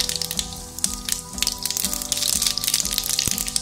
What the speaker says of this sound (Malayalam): നമുക്ക് എണ്ണ ചൂടായിട്ട് ഇതിനകത്ത് കുറച്ച് കടുക് പൊട്ടിക്കാം